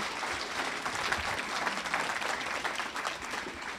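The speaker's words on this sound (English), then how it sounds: "I want a round of applause for Matt" An audience at a York 912 monthly meeting claps for moderator Matt Briette, a full, even wash of many hands sustained throughout at moderate loudness with no one speaking.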